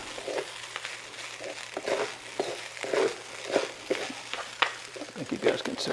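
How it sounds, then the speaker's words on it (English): Shrimp fried rice stirred hard in a wok, with steady sizzling and repeated scraping and tossing strokes, close and fairly loud. "Notice I'm stirring it like crazy here. I don't want it to stick to the wok here"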